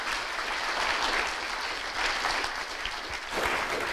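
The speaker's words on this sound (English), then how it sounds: "so please an applause for the panelists" A room full of people applauds, with dense, steady clapping holding strong throughout.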